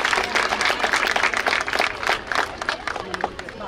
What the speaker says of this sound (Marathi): जेव्हा टाळ्यांचा आवाज थोडा मोठा होईल तेव्हाच कळेल की नाही हे खरंच सगळ्यांना मान्य आहे